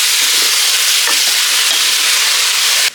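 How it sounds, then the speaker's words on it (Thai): Beef stir-fried in a pan with onions already browned for about ten minutes for a beef stew: a loud, continuous hissing sizzle with scraping strokes from the stirring throughout, ending abruptly. "เราก็จะใส่เนื้อ แล้วก็ผัด"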